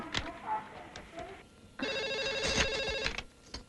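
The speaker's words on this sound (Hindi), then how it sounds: "मीनाक्षी को फोन करते हैं, सब क्लियर हो जाएगा।" A telephone rings in a Hindi-dubbed South Indian action film, a loud burst of repeated electronic trills lasting over a second, with voices and background sound around it.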